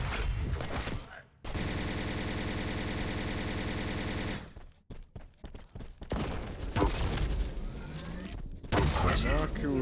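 Railgun and rocket fire in an arena shooter duel, with a long buzzing stream of rapid shots, then sharp cracks and blasts, loud and close, while a commentator talks over the action.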